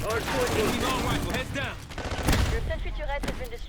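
An automated sentry turret fires in the Black Ops 6 video game, a loud dense clatter of rapid gunfire with sharp cracks mixed in. Speech-like sounds, apparently game dialogue, run under the shooting.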